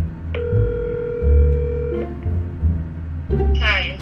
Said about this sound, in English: I'm calling my mom.